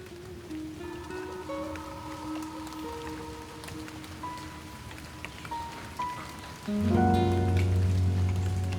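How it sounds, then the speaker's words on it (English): Steady rain patters on a surface, with tonal ringing sounds over it that swell louder near the end. "I get distracted sitting out here and listening to the rain."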